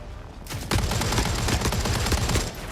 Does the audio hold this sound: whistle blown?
no